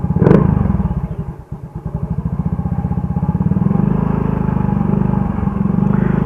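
Motorcycle fitted with a modified-tip chicken pipe exhaust, idling loud and close with a deep, throbbing putter, revved once at the start, then settling into a steady, rapid lumpy idle.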